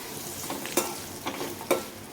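Fried kabuli chickpeas being stirred in a pan for chana koliwada, with a soft sizzle and three sharp scraping strokes of a spoon against the pan, close and alone.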